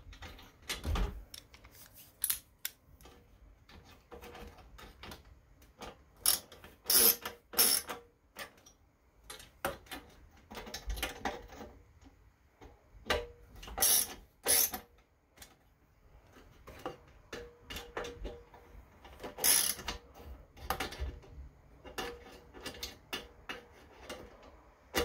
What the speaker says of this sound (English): Here, you will want to tighten the holders.